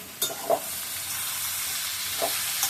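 Spices fry with a steady close sizzle in a hot pan, broken by a few short scraping stirs of a spatula near the start and end, no talking.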